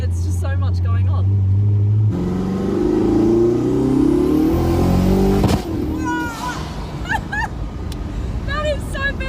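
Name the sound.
supercar engine with backfire pops and turbos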